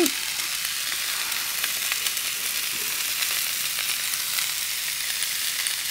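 Potatoes frying in a pan, a dense, even sizzle that stays loud and constant throughout without pauses.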